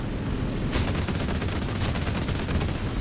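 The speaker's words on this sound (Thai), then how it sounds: "เอาปืนกลยิงดีกว่า" Rapid machine-gun fire from an aircraft in War Thunder rattles in a dense, continuous burst for about two seconds over loud engine drone.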